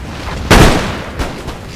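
A musket volley in Empire: Total War lands as one loud booming crack, followed by a fading rumble and a couple of softer distant pops.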